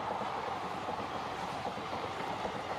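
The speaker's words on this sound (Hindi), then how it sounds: "ये तो मुझे लगता है अब तक का मेरा सबसे तेज़ तरीन डीजल लोकोमोटिव है, WDP4" An Indian freight train hauled by a WDP4 diesel locomotive rolls past at high speed, giving a steady, loud broadband roar of wheels and wagons with no talk over it.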